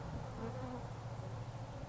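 Honeybees buzz around a hive frame that has come slightly apart, giving a dense, continuous drone of many wings, close and fairly quiet, with no voices.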